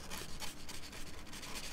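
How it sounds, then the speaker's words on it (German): Sandpaper rubbed by hand over the painted surface of a car exhaust pipe gives a quiet, continuous rasping scrape with faint rhythmic strokes. "Bevor es zum Lackieren geht, müssen wir natürlich die Fläche auch noch schön anschleifen."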